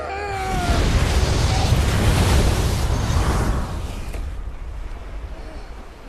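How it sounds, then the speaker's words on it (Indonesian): A ship blowing up in an action film, heard as a loud, rumbling blast that swells over the first few seconds and then rolls off into a fading roar. "Arthur tidak selamat dari ledakan kapal tersebut"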